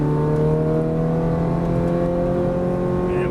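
A Ferrari F430 on a racetrack runs under hard throttle, its engine a loud, sustained, smooth roar heard from close up, with no break in the sound.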